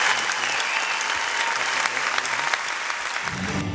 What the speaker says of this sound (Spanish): un aplauso bien fuerte desde aquí